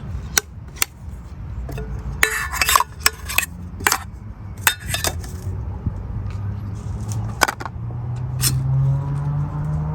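Metal clinks and clatters as a Lixada camping cook set pan and skillet are handled, in sharp scattered knocks over steady low outdoor rumble.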